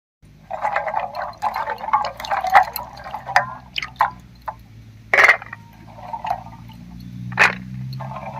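Peeled jackfruit seeds are rinsed by hand in water, close splashes, drips and trickles in irregular bursts, with sharper sloshes and a low steady hum underneath; no talking.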